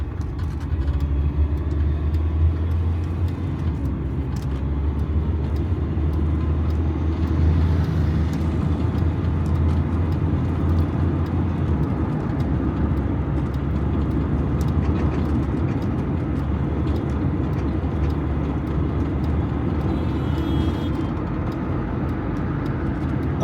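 Steady road traffic flows along Park Road in Islamabad, a continuous low rumble of car engines and passing vehicles with no talk, holding at an even level throughout.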